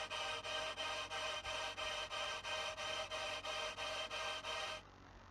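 A synth atmosphere pad for a happy hardcore track pulses steadily in even, rhythmic swells, a soft airy wash heard alone at low volume before cutting off abruptly near the end.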